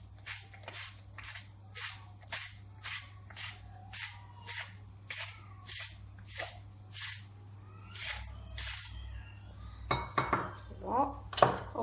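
A small spoon repeatedly clinks against a small dish while spices are added, about a dozen sharp, close clinks in a steady rhythm, then a quicker cluster of scraping taps at the end, with no talking.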